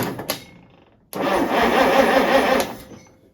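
A wheel loader's starter motor cranks its engine, a loud steady churning that bursts in after a brief pause and runs about a second and a half before fading, with faint clicks beforehand.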